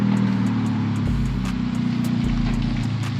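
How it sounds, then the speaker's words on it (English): Modified car running with a single-exit exhaust, a steady, close, low engine drone with a few rhythmic ticks and slight surges, no talking. "This car sounds good."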